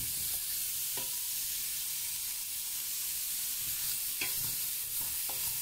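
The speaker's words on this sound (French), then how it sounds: "On va déglacer avec le vinaigre balsamique." Balsamic vinegar hits a hot pan for deglazing after browning beef for an alcohol-free boeuf bourguignon, giving a steady loud sizzle and hiss with occasional scraping stirs, no talking.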